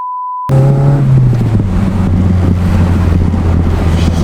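A Toyota AW11 with a 4AGE engine fed by bike carbs is driven hard, its loud rasping exhaust note rising and falling through revs while steady wind roar rushes past the microphone, with no voices.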